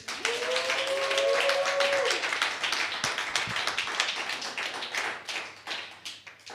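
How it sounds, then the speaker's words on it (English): A church congregation claps at a youth revival meeting, brisk dense clapping that starts loud with a brief voice over it, then thins into scattered claps. "let's clap for Jesus."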